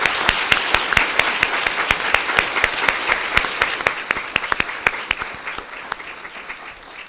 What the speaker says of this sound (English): Let's have one more round of applause for the Delaware Award for Heroism recipients.